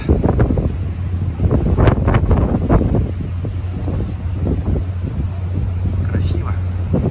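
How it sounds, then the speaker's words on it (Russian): Strong wind gusting and whistling through ship cables on the Sea of Japan at Vladivostok on a snowy November morning, a loud, continuous roar that rises and falls in close, buffeting gusts, with a brief higher whine near the end. "Вон как свистит в тросах."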